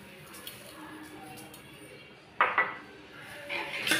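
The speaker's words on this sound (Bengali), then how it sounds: "আমি এর মধ্যে সব দিয়ে নেড়ে দিচ্ছি।" Semolina halwa with sugar is stirred in a pan. Quiet scraping gives way to louder clinks and scrapes of a spoon against the metal pan in short bursts.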